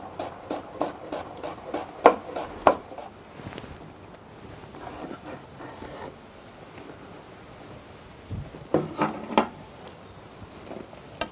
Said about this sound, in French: Donc on va émincer les oignons.